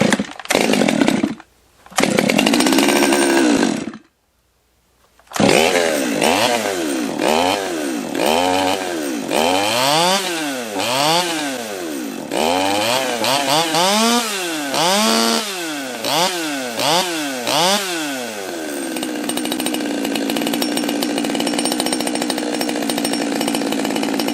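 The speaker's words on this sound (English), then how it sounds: "All right, let's try to start it again." A top-handle chainsaw, either a Stihl 194T or a Holzfforma G111, is pulled several times, catches, and then revs repeatedly in loud rising and falling bursts before settling into a steady high idle, close by and with no talking.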